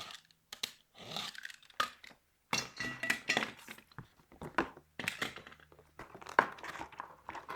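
Cutting a piece off a plastic stained glass grinder surround, a series of irregular crunching, crinkling snips and clicks in short bursts with gaps between, close and fairly quiet.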